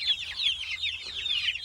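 Hens in a chicken tractor, laying birds rather than meat birds, cluck in a steady run of quick chattering calls, close and moderately loud with no talk.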